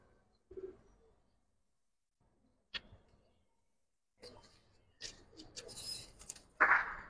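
Silver Giribaz pigeons, including a female, handled up close by a dealer: a few soft, sparse coos and brief rustles, with a louder flutter of wings near the end.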